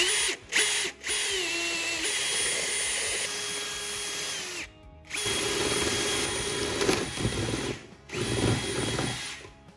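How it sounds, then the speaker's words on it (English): A power drill with a 1 1/8 inch Forstner bit whines steadily as it bores into a wooden beehive super, in long continuous bursts broken by a few short pauses. "So I'm gonna be using a 1 1/8 inch forester bit to drill in there."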